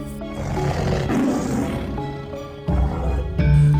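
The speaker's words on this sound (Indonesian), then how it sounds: "Suara geraman harimau besar itu tidak membuat sedikit pun rasa keder anak muda itu." Large tiger growling and roaring, a loud, close, sustained rumble that swells and drops, with fresh bursts of roaring near the end, heard alone without speech.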